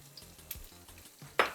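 Chili pieces and curry leaves drop into hot tempering oil for a drumstick soup, giving a short, sharp burst of sizzling near the end after quieter crackling, close and fairly loud.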